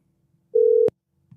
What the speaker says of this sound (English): Robbie, let me see if phone lines are open here.